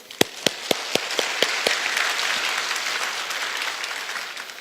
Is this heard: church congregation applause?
yes